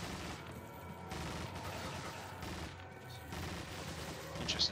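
Leon fires his gun in Resident Evil 4 HD, a fairly faint, steady volley of shots blended into game ambience, with a few bright pings near the end.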